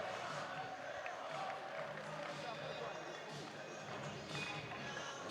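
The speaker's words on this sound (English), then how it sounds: "it sounds like some counter cheering in the crowd" Crowd at a table tennis final with rival groups of fans cheering and counter-cheering, a steady dense roar of voices filling the whole stretch without pause.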